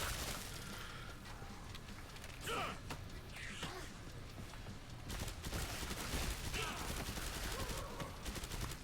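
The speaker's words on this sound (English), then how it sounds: "He says as he shoots his invincible teammate in the back, wasting his ammo." Gunfire in the video game Killing Floor 2, a run of rapid shots with a brief mechanical clatter, fairly quiet and steady across the stretch, with no voices over it.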